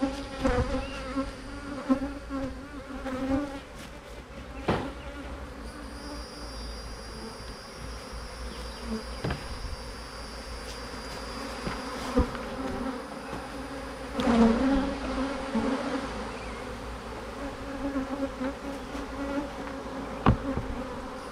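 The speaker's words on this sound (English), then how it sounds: "While we're fooling around with these vicious bees" A dense swarm of aggressive honeybees buzzes steadily and close by for a long stretch, with occasional knocks and clicks from hive handling and no talking.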